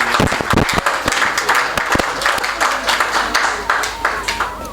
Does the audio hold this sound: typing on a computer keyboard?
no